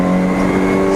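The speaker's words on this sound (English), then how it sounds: "the BMW, the rear-wheel drive car, then accelerates off the hairpin" A rear-wheel-drive BMW race car accelerating off a hairpin at Donington, a loud, close, steady engine drone with strong harmonics for about a second.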